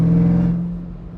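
A green Jeep Trackhawk with deleted catalytic converters gives off a loud, steady supercharger whine over its exhaust note, close by, fading somewhat in the second half.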